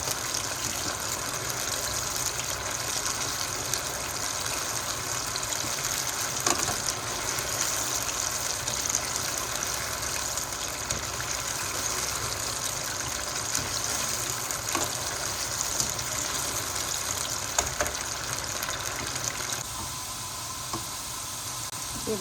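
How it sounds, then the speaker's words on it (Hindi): Pieces of taro root (arvi) frying in hot oil give a steady, dense sizzle that holds evenly close up throughout, with occasional soft knocks and no talking. "अरवी को हम कलर चेंज होने तक अच्छी तरह फ्राई करेंगे।"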